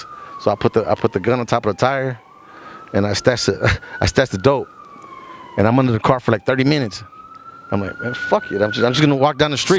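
Police car sirens pass through a South Central neighborhood, a loud wailing tone rising and falling steadily under someone talking close up throughout.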